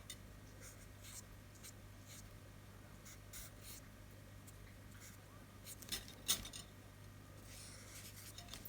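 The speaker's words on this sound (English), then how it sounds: "I'm writing them a little bit smaller at the top" Pen strokes on paper piano keys as note names are written in, a faint, close scratching that comes and goes in short bursts over a quiet room hum, with a slightly louder stroke near the end.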